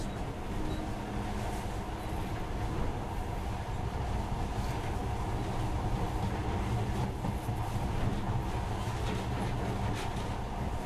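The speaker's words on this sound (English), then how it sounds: "In the past, trains were ordinary things, but now, this monorail seems magic, doesn't it?" Monorail train in the game Metro Last Light Redux, a steady, continuous rumbling rail run with a low drone and faint rattling throughout, close and even in loudness, with no talk.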